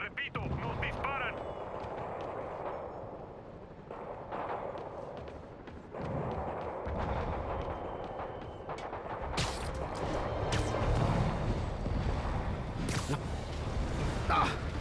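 Dense gunfire and booming artillery-like blasts in the video game Spider-Man on PS4, a continuous chaotic barrage with sharp crackling shots layered over heavy rumbling impacts, loud and close throughout.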